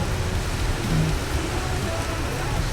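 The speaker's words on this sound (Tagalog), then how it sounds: "Napakalakas ng ulan." Heavy rain pours down in a steady, dense, loud wash that fills the whole clip, with no break in the downpour.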